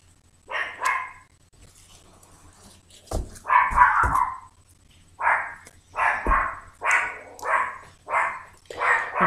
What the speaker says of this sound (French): j'ai ma petite chienne qui fait ses cordes vocales